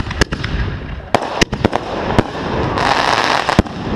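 Backyard Fourth of July fireworks crackle and pop nearby, with several sharp bangs scattered over a dense, hissing fizz that swells near the end.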